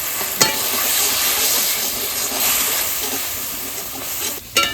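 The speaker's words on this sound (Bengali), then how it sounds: "অল্প একটু জল দিয়ে আমি কষিয়ে নিই" Spice paste of Kashmiri chili powder and turmeric with a splash of water sautéing in a pan, a steady broad hiss and sizzle with a couple of sharp utensil knocks, close and continuous.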